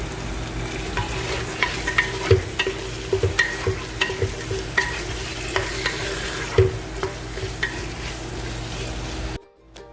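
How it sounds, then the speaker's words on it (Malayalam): A spatula sautés chicken and small potato pieces in a pan for dal khichdi, producing a steady sizzle with repeated scraping strokes and knocks against the pan before an abrupt cut to silence. "വഴറ്റി വെച്ചിരിക്കുന്ന ചിക്കൻ ഇതിലേക്കിട്ട് നല്ലതുപോലെ ഒന്ന് വഴറ്റി എടുക്കുക"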